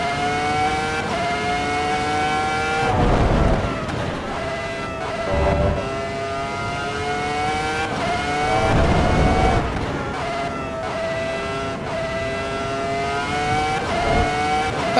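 A V10 race car engine revs hard in Assetto Corsa Evo, loud and close, its pitch climbing and dropping through repeated gear changes and lifts, with no talking.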